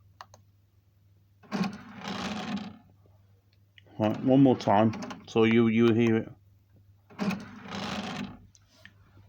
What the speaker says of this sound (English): it's doing that rattling sort of like a brrr sound when it's coming out